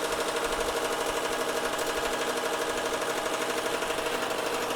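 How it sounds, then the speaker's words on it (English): Embroidery machine stitching an appliqué, a fast steady mechanical needle rattle that runs continuously at an even, moderate level without any talk. "So we'll go ahead and hit start. It's going to move over to the color that I selected, and it's going to do that initial stitch."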